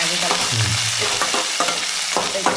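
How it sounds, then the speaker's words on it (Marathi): Onion sautéing with loud sizzling in a pan and repeated stirring and scraping strokes, a dense, continuous fry close by. "कांदा थोडा परतून घेऊ"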